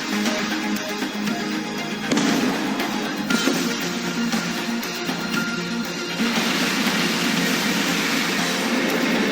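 The NASA Artemis I rocket carrying Orion lifts off with a continuous, dense broadband roar that holds steady and loud for the full stretch, with no voices over it.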